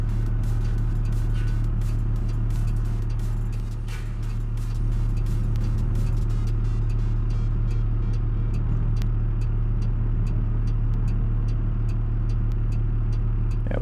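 Vehicle engine held at full throttle while towing trailers in BeamNG, a steady loud drone with a low hum and faint rhythmic ticking over it, no voice.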